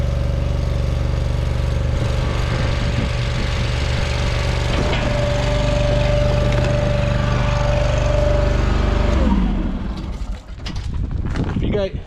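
A homemade log splitter engine built around 1990 runs at a steady droning hum while powering an IMT crane, then winds down near the end, with someone talking nearby.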